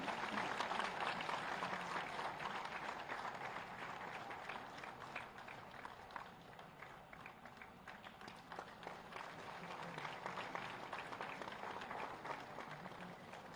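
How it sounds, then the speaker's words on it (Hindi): A crowd applauds teachers at a school event in Meerut, a dense, sustained clapping that begins loudest and carries on steadily for over ten seconds with slight surges. "एक बार सभी शिक्षकों के लिए तालियां"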